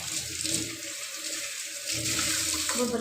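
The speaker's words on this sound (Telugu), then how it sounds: "ఇప్పుడు ఇంత ఫుల్గా పోసాం మనం ట్యాప్ వాటర్" Tap water poured into a clay drinking-water pot, a continuous, close rushing and gurgling stream that fills the whole moment.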